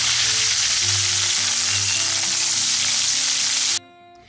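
Loud, steady sizzling of rohu fish frying in hot oil, a dense continuous crackle that cuts off abruptly near the end.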